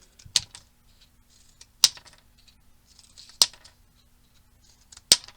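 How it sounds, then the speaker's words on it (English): Scissors cutting rectangles from paper, four crisp separate snips spaced about one and a half seconds apart, close up, with faint paper rustling between. "let's cut a bunch of rectangles"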